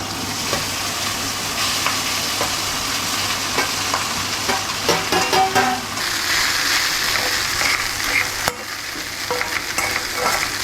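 Crumbled idli is tipped into a hot pan and stirred, a loud close sizzle with repeated scraping and clattering of the utensil, plus a low steady hum underneath.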